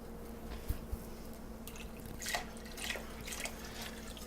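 Stock is poured into a pot of demi-glace, faint liquid splashing and dribbling sounds over a low hum, a few soft drips and a brief gurgle, quiet and close.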